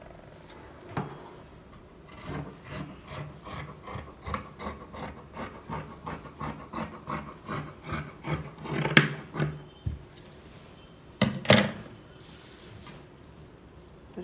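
Scissors cut through cloth for a pillow cover in a quick run of rhythmic rasping snips, close and quiet, with a few louder scrapes and rustles near the end.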